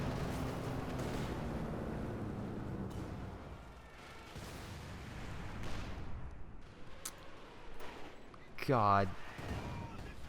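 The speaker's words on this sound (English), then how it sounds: "Artillery fire once again, hitting the big red bullseye" Artillery barrages in Company of Heroes 2, a dense roar of distant booming impacts and gunfire that rumbles under a commentator's voice, then a sharp loud blast near the end.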